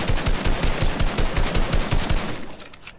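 Close, loud burst of rapid submachine gun fire in a battle royale shooter game, a fast steady stream of shots lasting about three seconds before trailing off.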